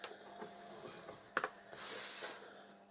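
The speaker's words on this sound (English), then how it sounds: "that's all we need to do for that scoring" Cardboard for a chocolate gift box being scored with a tool makes scattered scratchy clicks and taps, followed by a longer, hissing scrape across the surface, fairly quiet and with no talking.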